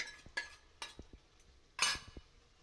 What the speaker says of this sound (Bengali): টক দই দিয়ে কিন্তু অনবরত নাড়বেন